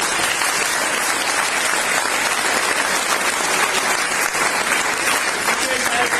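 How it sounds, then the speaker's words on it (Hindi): Sustained audience applause fills a business opportunity meeting hall, a dense steady wash of many hands clapping at even loudness for the whole stretch, with some voices mixed in. "सुरेंद्र सर के लिए जितनी तालियां बजवाई जाएं उतनी कम है"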